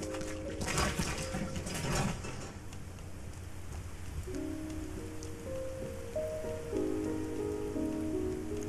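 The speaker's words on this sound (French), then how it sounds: "L'histoire d'un monde invisible révélé à travers les gouttes de la pluie." Steady rain patters on surfaces in the video game Rain, a dense hiss of close drops throughout, with soft sustained music tones rising beneath it in the second half.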